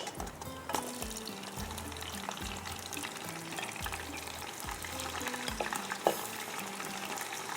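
Boiled beef goes into a pot for a desi tarka dish, giving a steady close-up sizzle with repeated scraping stir strokes and occasional clinks, no voices.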